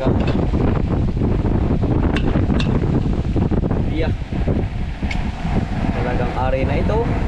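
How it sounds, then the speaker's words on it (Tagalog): Strong, steady wind roars and buffets the microphone throughout, with brief knocks and faint voices underneath. "Nalakas po ng hangin dito sa amin."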